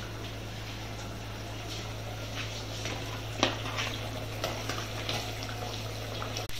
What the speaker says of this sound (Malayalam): മീൻകറി നല്ലോണം തിളച്ച് വന്നിട്ടുണ്ട്.